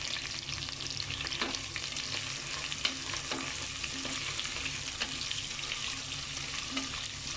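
Sliced onions and whole spices sizzle and crackle steadily in hot oil in a pan for vegetable pulao, with an even, close frying hiss and occasional stirring clinks.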